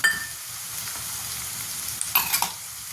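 Potatoes, onion and green chilli sizzle steadily in a pan while being stirred, with a constant frying hiss and soft scraping clatters from the spoon, louder near the end.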